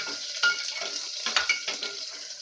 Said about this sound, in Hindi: ये हरा मिर्च और प्याज ये दोनों हम एक ही साथ डालेंगे।